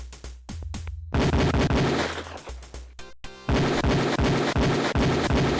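Beretta pistol fire at a shooting range in the Police Quest 4 video game: sharp loud shots in quick sequences of several rounds, with short silent gaps between volleys and no talking.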